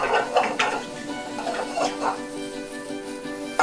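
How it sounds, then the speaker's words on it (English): Hedgehog mushrooms and onion confit being sautéed in a hot pan, with soft sizzling and repeated stirring and utensil scrapes against the pan, close and moderately loud. "So I'm going to start by sauteing these hedgehog mushrooms."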